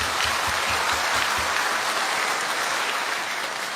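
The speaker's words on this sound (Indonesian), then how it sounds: "Tepuk tangan." An audience claps together in a steady, dense burst of applause that stays loud and even throughout, with no voices heard over it.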